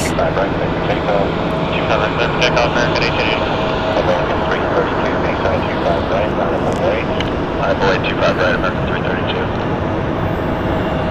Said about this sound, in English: we got our American Airlines 1884 going to Palm Springs. Taking the runway now